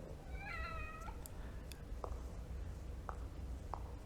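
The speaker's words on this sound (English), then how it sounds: "I didn't know the cat could purr." A cat in the video game The Evil Within gives a short meow followed by soft purring and a few faint clicks, quiet over a steady low background hum, with no talking.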